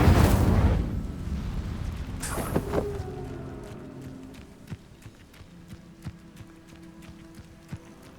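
Fiery Incendio spell cast in the Hogwarts Legacy video game: a loud whooshing burst at the start, a second flare around two seconds, then fading crackle and scattered sharp ticks.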